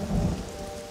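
Heavy rain with a deep rumble of thunder in the Namibian desert, loud and dense for a single second.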